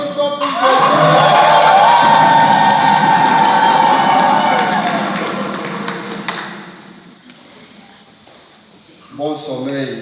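A church congregation at an Easter vigil breaks into loud applause and cheering that swells, holds for several seconds, then fades away before a voice speaks again.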